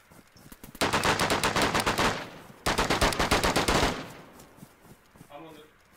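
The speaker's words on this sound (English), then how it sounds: "Is that you shooting me on the roof, Charlie?" Rapid automatic gunfire in an online PvP shooter, with two loud, sustained bursts of evenly spaced shots close by and a short gap between them, followed by quieter game noise and faint voice chat.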